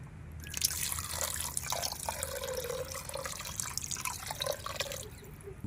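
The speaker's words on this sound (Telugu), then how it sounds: "తగినన్ని నీళ్లు పోసుకుందాం" Water poured into a vada batter mixture of curd, chopped green chillies, salt and chilli powder, a continuous close splashing and dribbling pour lasting several seconds, steady and fairly loud, with no talking.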